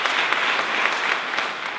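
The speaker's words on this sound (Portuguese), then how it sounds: "Quem está comigo, aplauda ao Senhor enquanto eu bebo água." Church congregation applauding during a sermon, dense steady clapping from many hands filling the room for a couple of seconds.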